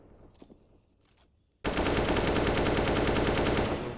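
Dense automatic gunfire erupts on the Ancient map of a professional Counter-Strike match, ESL Challenger Katowice 2023, loud and continuous for over two seconds after a quieter stretch of scattered game sounds.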